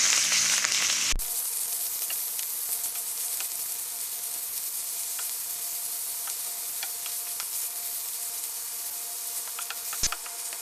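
Minced meat added to browned onions in a hot pan, with a steady, close frying sizzle and hiss that holds evenly throughout, broken by a sharp clunk near the start and another near the end.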